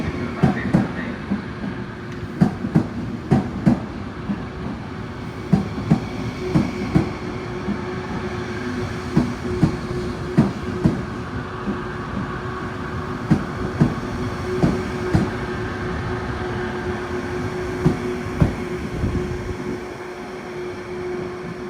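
Trenitalia regional train from Bassano del Grappa pulling into platform 12 at Venezia Mestre station, a steady rumbling roar with repeated clacking wheel beats over rail joints throughout, fairly close and loud.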